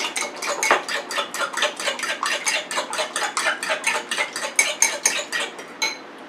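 A utensil whisks egg wash briskly in a bowl, making a fast, even run of clinking strokes that lasts several seconds, close and clear with no voices.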